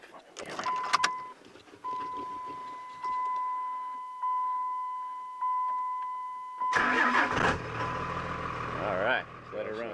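A Dodge pickup truck engine cranks and turns over, idling unevenly with a tonal whine, then revs up louder near the end; faint voices and clatter occur earlier.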